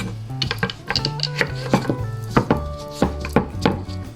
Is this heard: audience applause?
no